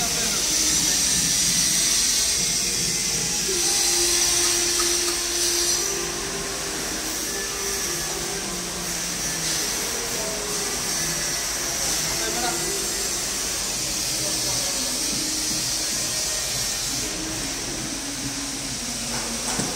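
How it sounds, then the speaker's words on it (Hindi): Drill machine running at a construction site in a courtyard area on a Qatar sewerage, pipe-laying and landscaping project, a steady loud whining roar that holds for the whole stretch with no pauses, with faint voices in the background. "Drill machine."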